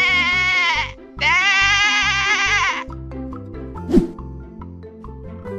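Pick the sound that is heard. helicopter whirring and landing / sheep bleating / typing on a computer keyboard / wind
sheep bleating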